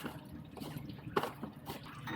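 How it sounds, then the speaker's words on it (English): Engine oil drips from a 996.2 Porsche 911 Targa during an oil change, heard as faint, irregular liquid drips and trickles close by, with one sharper splat midway and no talk. "Probably been about 10 minutes of dripping here, maybe 15."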